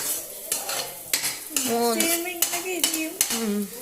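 Chammanthi ingredients are stirred with oil in a pot, with a spoon knocking and scraping against the metal in uneven strokes. The sound is close and fairly quiet, and a faint sizzle sits underneath.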